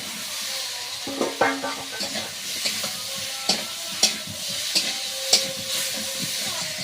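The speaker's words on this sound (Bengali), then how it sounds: "এবার সিদ্ধ করা আলুটা ঢেলে দেব" Boiled new potatoes, skins left on, fry in a pan with a soft steady sizzle, punctuated by repeated clacks and scrapes of a spoon stirring against the metal, fairly close and moderately quiet.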